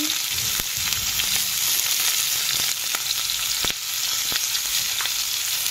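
Beans frying with a little salt in a pan for a Bengali chicken stew, giving a steady, loud sizzle that runs throughout with occasional faint stirring clicks.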